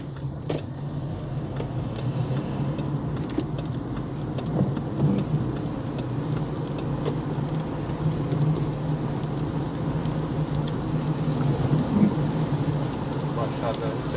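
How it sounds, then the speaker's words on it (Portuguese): Heavy winter rain pours in João Pessoa, Paraíba, after earlier flooding. A dense, steady hiss of downpour lasts throughout with faint low rumbles beneath and no clear voices. "Hoje começou a chover e forte mesmo."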